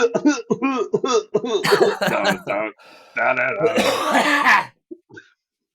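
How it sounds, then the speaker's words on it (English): A man coughs and clears his throat repeatedly in harsh bursts, close to the microphone, mixed with strained vocal sounds and short pauses. "I've coughed so much now."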